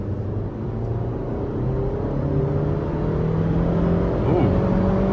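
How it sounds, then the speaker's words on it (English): A 2012 Hyundai Sonata Limited accelerates at wide open throttle, a steady rising engine drone heard from inside the cabin, building gradually in pitch and loudness with road hum underneath. "let's give it wide open throttle here"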